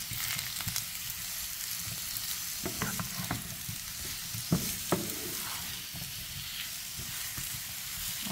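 Chicken being stirred and fried in a pan over medium-high heat, a steady close sizzle with scraping utensil clicks and stirring strokes throughout, no talk.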